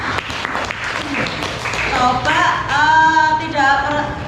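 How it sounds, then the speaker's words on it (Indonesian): A classroom group gives a round of clapping for a student named Nisa. The clapping is strongest early on, then overlapping children's voices rise and carry over it. "Oke, tepuk tangan untuk Nisa."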